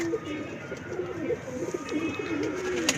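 Pigeons coo softly on a rooftop loft, their low throaty calls repeating in short rounds over faint background hum.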